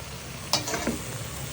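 Leafy greens are stirred in a hot pan with a soft scrape and a brief burst of sizzling over a steady frying hiss, close by and with no voices.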